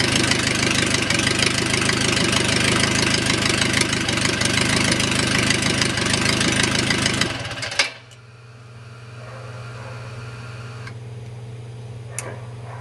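Les Smoot 4A084 aircraft engine running on a test stand with a loud, steady ticking drone that cuts off abruptly partway through, leaving a faint hum and a few small clicks.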